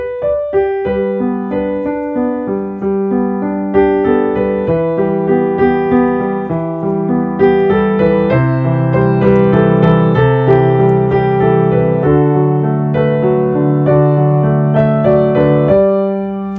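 Solo piano plays a song beginning on a pickup note, a steady flowing arrangement of layered chords and melody, loud and close with no voices.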